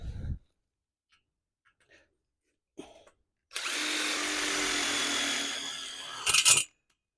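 A power drill drives a Tech screw into a prefab chicken coop, a few small knocks and handling sounds, then one sustained close whirring run of about three seconds ending in a brief louder burst.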